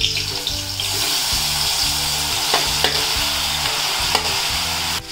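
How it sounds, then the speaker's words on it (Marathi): Grated carrots tossed into hot ghee in a kadhai for gajar halwa fry with a loud, continuous sizzle, punctuated by a few sharp scraping clicks, close up over faint music. "आता हे गाजर टाकून घेते।"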